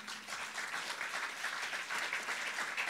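A church congregation applauding steadily, a dense even patter of many hands clapping at moderate volume throughout.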